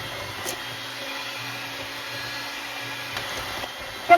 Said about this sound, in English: So I'm just gonna be using the handheld mixer today.